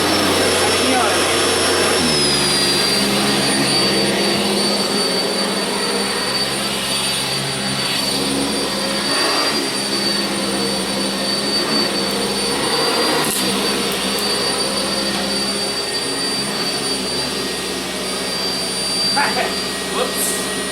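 A Sanitaire SC679j upright vacuum cleaner runs in a basement with a loud, steady motor whine throughout, its pitch shifting slightly early on, with occasional faint talk beneath it.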